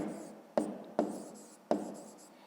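Handwriting with a pen on paper, three short sharp taps each followed by a soft scratchy stroke that fades, close and fairly quiet.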